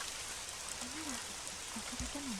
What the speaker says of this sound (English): In no time at all, it's turned into a downpour, pounding against the window.